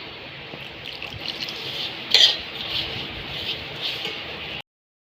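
Crushed chilli being worked by hand into semolina pasta dough in a home kitchen, soft steady squishing and scraping with a sharper clink near the middle, close and moderately quiet, no voices.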